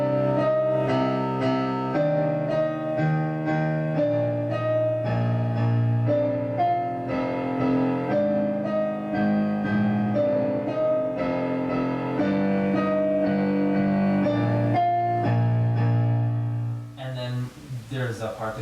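Piano playing the Shin Gojira theme, a slow sustained chordal melody with deep bass notes ringing steadily, close and alone, fading into a soft noisy tail at the end.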